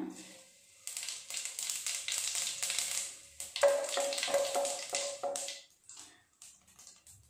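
Half a teaspoon of cumin seeds dropped into hot oil for a Nepali-style egg curry, giving a steady, moderately loud sizzle that swells midway and tapers off near the end.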